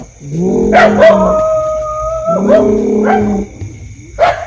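A voice imitates a dog howling, giving two long, wavering howls close up, each ending in a short yelp, with a brief yip at the end.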